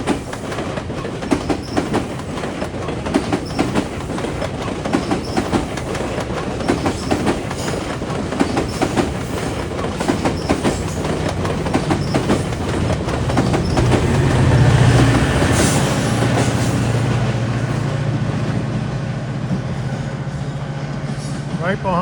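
A late-running commuter train bound for Georgetown passes through Toronto, its wheels clicking over rail joints in a steady clatter that swells in the middle as a deeper rumble builds toward the end.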